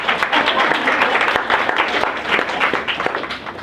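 Audience clapping at a health equity research talk, a steady dense patter of many hands held at an even level for several seconds.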